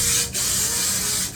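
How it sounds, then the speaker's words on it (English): Hairspray hissing onto hair in one steady burst, with a short break partway through, close and fairly loud with no talking. "I like to spray my hair before I brush it out"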